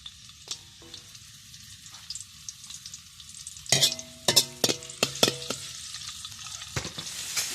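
Garlic drops into hot oil for fried rice and sizzles steadily, then a run of sharp metal scraping and stirring strokes clatters close and loud over the frying.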